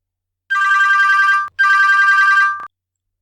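A telephone rings twice in a Bengali audio story, two loud, steady electronic trilling bursts about a second each with a brief gap between them, close and clear with no voices.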